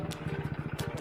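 A motorcycle arrives, its engine giving a brief, rapid, even putter of beats at close range.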